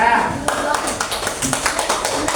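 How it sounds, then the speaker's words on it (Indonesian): Students clap together in a classroom, a brisk run of close hand claps with some talking mixed in. "Nah, tepuk tangan"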